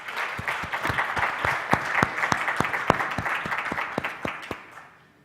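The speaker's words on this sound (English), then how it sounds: "Can we get a little round of applause?" A small audience gives a round of applause at a NATPE 2012 conference session, with distinct individual claps rising out of a steady patter and thinning out toward the end.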